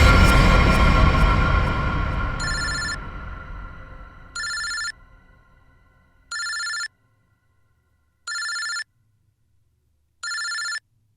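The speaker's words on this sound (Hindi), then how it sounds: "ये किसका फोन है?" A telephone rings in regular electronic bursts, four or five evenly spaced rings that stand out clearly after a fading noisy passage of background sound at the start.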